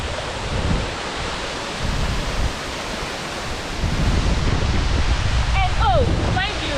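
The Wli waterfall sends a broad, steady rush of falling water, loud and near, with wind-like noise swelling in places and a few faint whistling tones near the end.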